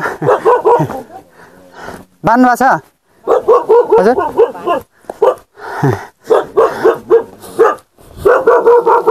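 A dog barks several times in short bursts, close and loud, mixed with people talking nearby, on a hill trail in western Nepal.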